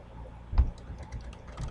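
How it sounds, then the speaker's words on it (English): Keys tapped on a computer keyboard in a quick, uneven run of soft clicks, with one slightly louder thump partway through and no talking. "I'll just type"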